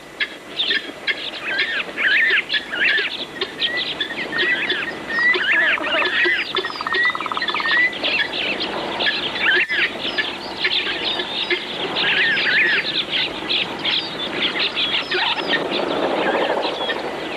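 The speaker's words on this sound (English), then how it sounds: "providing a feast for water birds, especially the waders" Water birds and waders feed at an African waterhole, giving busy overlapping chirps, twitters and calls that continue throughout at moderate loudness, with a faint wash of background ambience.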